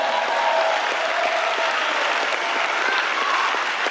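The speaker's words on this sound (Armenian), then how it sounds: "խնդրում եմ բարձր ծափարեք նրանց։" An audience applauds schoolchildren at a school event, a dense, steady wash of clapping from many hands that stays loud and even throughout without pause.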